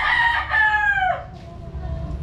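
A young rooster, a stag, gives a single close crow that rises and then trails off, over low background noise.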